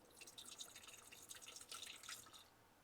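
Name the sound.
Breville descaling solution poured into espresso machine water reservoir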